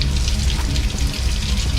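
A cup rinsed under a running kitchen tap: steady loud gushing water splashing into the cup and sink for the whole stretch, close by and with no voices.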